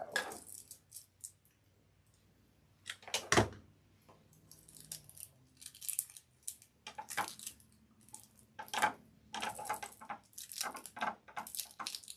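Scissors trimming craft material around a corner while making a dangle-leg Santa gnome from a kit, a series of close, crisp snips and rustles in irregular bursts with quiet gaps between them.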